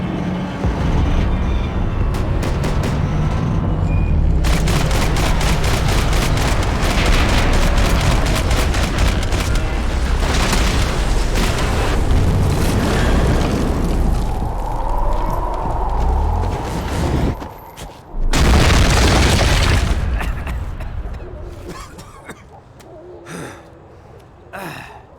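Max Payne 3 gameplay fills the scene with dense gunfire and explosions: a loud, continuous stretch of rapid shots and booms that breaks off briefly before another big blast, then scattered shots as it dies down.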